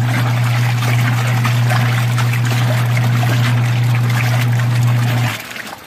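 A Costway mini washing machine churns water during its wash cycle, a loud steady motor hum with sloshing and splashing that runs for about five seconds, then stops abruptly.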